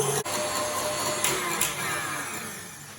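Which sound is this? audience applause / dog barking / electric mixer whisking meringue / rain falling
electric mixer whisking meringue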